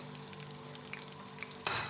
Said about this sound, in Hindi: ऑयल हो गया जी गरम। अब हम इसमें डालेंगे ये कटा हुआ प्याज